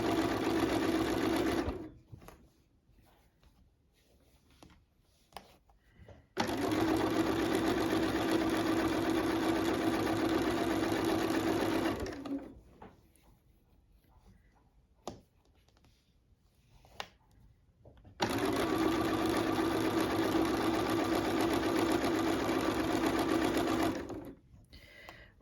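Sewing binding onto a quilt, a sewing machine runs in three steady, humming bursts of several seconds each, separated by near-silent pauses with small handling clicks.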